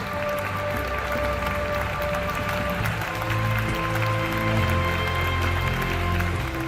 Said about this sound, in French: on les applaudit, s'il vous plaît, très très fort